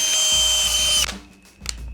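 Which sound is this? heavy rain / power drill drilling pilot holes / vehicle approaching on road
power drill drilling pilot holes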